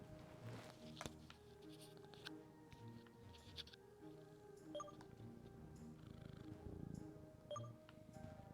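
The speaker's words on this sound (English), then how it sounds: "Do I hear her purring?" A cat purrs softly and close by, a faint, continuous rhythmic rumble with occasional small clicks and rustles of movement, very quiet overall.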